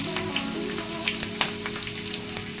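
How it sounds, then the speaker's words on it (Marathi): Mustard seeds, cumin, garlic and curry leaves sizzle in hot oil for a tempering for green peas aamti, giving a steady close crackle with scattered sharp pops and no talk. "राई चांगली तडतडली आहे जिरं लसूण"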